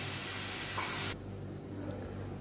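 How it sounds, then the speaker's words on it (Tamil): Ingredients sauté with salt in a hot pan while preparing kuzhi paniyaram, a steady loud sizzling hiss that cuts off abruptly, leaving a quieter, softer crackle. "ஸோ இங்கே வந்து இதை வந்து நல்லா வதங்கிடுது."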